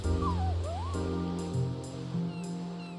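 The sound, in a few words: sniffer dog whimpering in video game Final Fantasy VIII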